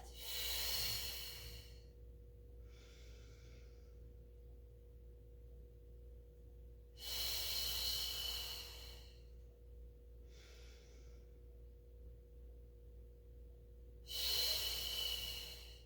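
A person breathing through a Pilates mat exercise: three long, loud breaths spaced several seconds apart, each followed by a softer, shorter breath, over a steady low hum.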